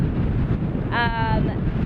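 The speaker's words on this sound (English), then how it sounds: "it's ridiculously windy" Strong wind roars and buffets the microphone throughout, with a brief voice rising over the blustery noise.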